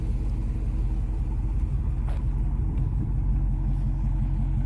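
A 2019 Dodge Charger Scat Pack's 6.4-litre V8 idles with a deep, steady rumble, close and loud, holding an even low throb with no talk over it.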